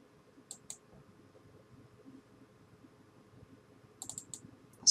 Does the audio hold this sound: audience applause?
no